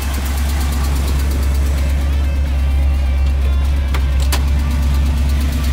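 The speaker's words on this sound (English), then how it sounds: "That exhaust leak is awful." A 1979 Chevrolet Camaro idles with a rough, steady rumble and the raspy chuff of an exhaust leak, loud and close, running continuously with no talk.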